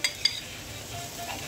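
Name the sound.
onions and carrots frying and being stirred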